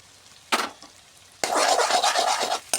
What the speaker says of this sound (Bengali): মশলা লাল লাল করে ভাজিয়ে নেব